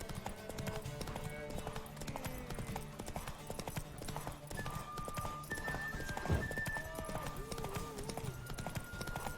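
Several horses in The Witcher 3: Wild Hunt gallop hard in a race, a dense, continuous clatter of hooves that carries throughout, with brief whinnies and shouting voices layered on top.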